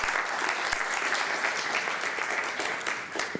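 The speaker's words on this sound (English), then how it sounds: "I hope you will warm him up with a large round of applause" A large conference audience applauds loudly and continuously, a dense even wash of clapping throughout.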